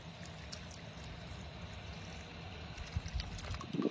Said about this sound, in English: All right, so I'm just going to add some hot water.